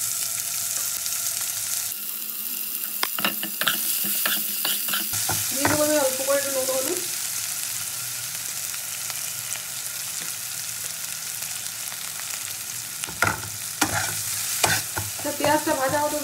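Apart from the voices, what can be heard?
chopped onion frying and being stirred in a pan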